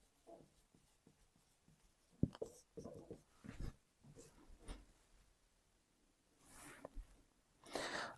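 Pen or marker writing out a theorem statement on a board or paper, close and faint, in short scratchy strokes with pauses between words.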